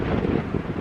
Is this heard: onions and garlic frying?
no